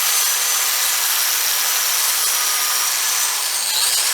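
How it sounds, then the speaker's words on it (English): An angle grinder cleans up welds on a thin-walled custom exhaust for a Predator 212 tracked scooter, giving a loud, steady, unbroken grinding hiss close by for the whole stretch. "I can clean it up with a grinder,"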